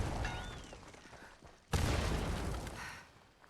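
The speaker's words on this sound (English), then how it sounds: "Just fireworks." Fireworks blast in the video game Fallout 76, a loud, sudden boom that rolls into a long, rumbling crackle over steady background noise.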